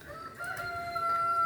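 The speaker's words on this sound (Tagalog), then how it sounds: "Ayan yung mga ibang manok nandyan, oh." A rooster crows in a drawn-out call with other chickens clucking nearby on a backyard in the Philippines, steady and fairly loud for a short moment with no talking.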